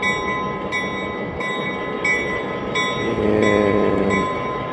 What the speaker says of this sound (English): So what I heard before was the actual F units.